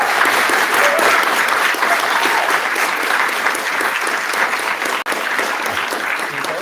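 A big round of applause fills the room as an audience thanks distinguished guests at an Indigenous perspectives speaker series, sustained and fairly loud clapping that keeps going for several seconds without a break.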